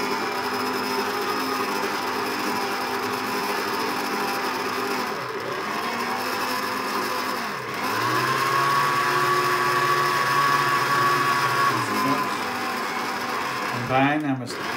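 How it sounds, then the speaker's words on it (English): An electric mixer runs on slow speed through Victoria sponge cake batter, a steady close motor whine that shifts pitch slightly as the load changes, briefly dipping before rising again near the end. "So, drop our mixer. We're going slow at the start. Just to mix everything together."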